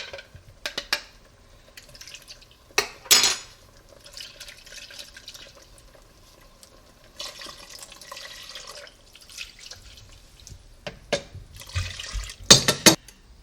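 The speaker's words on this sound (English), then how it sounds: "So we're going to add another cup of water to this." A cup of water is added to an egusi soup mixture in a pot: quiet splashes and trickles, with sharper bursts of pouring and sloshing near the start and again toward the end, close up.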